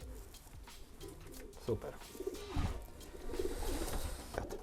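Racing pigeon cooing in low, soft repeated coos close by, mixed with a man's speech and background noise.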